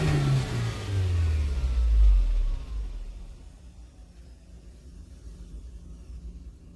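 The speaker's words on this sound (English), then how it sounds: "Now I'm going to rev the engine, and you see if there is any change in manifold absolute pressure." A Toyota Corolla Verso 2.2 2AD-FTV diesel with a P0107 MAP sensor fault revs hard once, a loud, close engine roar whose pitch climbs and then falls back over a few seconds to a quieter settling hum.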